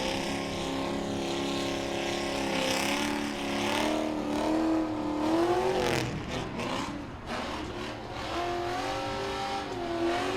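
A Grand Stocks race car at Langley Speedway does a burnout, its engine revving in rising and falling surges with a rough, gritty texture, loud and continuous from a moderate distance.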